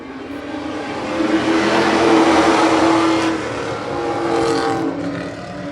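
Late model race cars roar around an oval track as a pack, engines loud and sustained, swelling as they pass close then easing slightly before building again.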